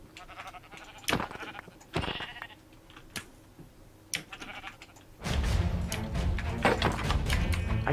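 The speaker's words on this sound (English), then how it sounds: "Ah, pink sheep! I must kill you!" Pink sheep in the Minecraft video game bleat in several short, separate calls spaced apart. A louder, denser burst of game noise takes over in the second half.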